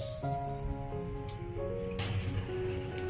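Whole coriander seeds tipped into a dry wok, a brief close rattling patter of small hard seeds striking metal, then a few light clinks, no talk.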